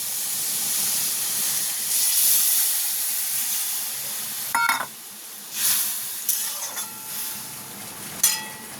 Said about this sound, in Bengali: এবার আমি এতে দিয়ে দেবো জল।